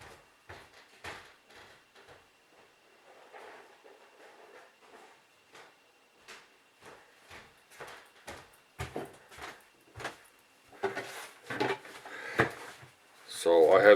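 A drawer in a workshop is opened and closed, with scattered wooden knocks and slides and rummaging that grow louder and busier toward the end, close to the microphone.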